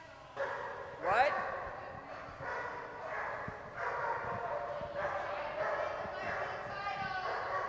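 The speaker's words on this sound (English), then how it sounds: "All I could hear was barking dogs" Dogs bark repeatedly at a dog sports splash event, sharp yips and barks from a moderate distance, mixed with voices talking over them.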